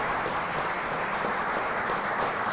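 Steady, dense applause from a symposium audience, a continuous wash of many hands clapping close and loud with no break.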